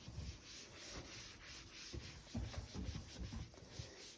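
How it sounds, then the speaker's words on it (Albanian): A dry cloth is rubbed over a surface to wipe away soap residue, giving a steady scrubbing swish with repeated back-and-forth strokes, close and moderately quiet. "Do ta fërkoj me njëherë"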